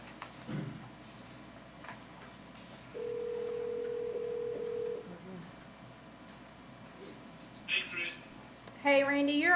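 A telephone line tone for a speakerphone call in a parks and recreation board meeting sounds as one steady tone of about two seconds, moderately loud over quiet room noise, with brief faint sounds before and after.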